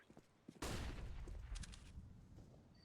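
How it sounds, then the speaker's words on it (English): A flashbang grenade detonates in the video game CS:GO, a sudden loud bang after a few faint clicks, followed by a decaying ringing burst. "Decoy. Throw in the flashbang."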